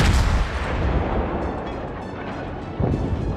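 Heavy warship guns fire in World of Warships: a loud booming salvo opens, rumbles away, and a second blast follows near the end, with no talk.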